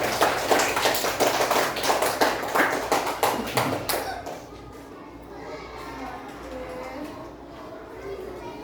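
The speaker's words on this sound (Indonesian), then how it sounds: "Tepuk tangan untuk kita semuanya." Second-grade classroom children clapping their hands together in rhythmic bursts for about four seconds, then stopping abruptly, leaving quieter room noise and a voice.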